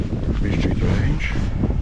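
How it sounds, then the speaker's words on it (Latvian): Steady wind rushes and buffets the microphone, a constant roaring gust with faint rustling beneath. "Bišķīt vējiņš."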